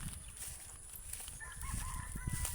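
Chickens on a farm, with faint clucks and a crowing rooster rising out of a steady background hum in the second half.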